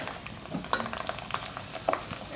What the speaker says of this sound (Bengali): এটা খুবই সহজেই ভাজা যায় একসঙ্গে অনেকগুলো দেওয়া মাসাল্লাহ কত সুন্দর ফুলে উঠছে